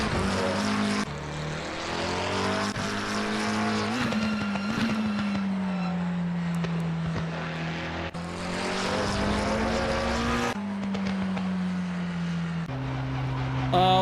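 A Lamborghini race car engine in Assetto Corsa Competizione drones loudly and steadily as it rises and falls in pitch through gear changes, with brief breaks at the shifts.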